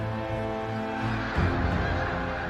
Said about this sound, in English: Quebec, where almost 1 million wild snow geese stop off once a year as they migrate south.